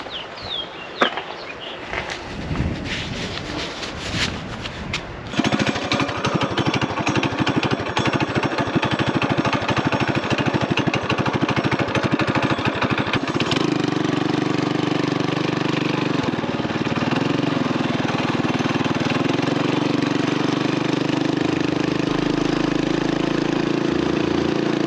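Modified Coleman BT200X mini bike engine during an off-road speed test, first idling and clattering, then revving hard into a steady loud drone that holds for the rest of the run.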